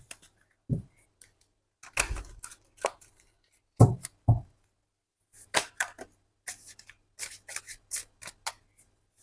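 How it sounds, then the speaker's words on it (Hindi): Tarot cards shuffled by hand in a quiet room, a run of sharp papery riffles and snaps in irregular bursts, close and fairly loud with no talking. "थोड़े से मैं कार्ड्स को शफल कर लेती हूँ"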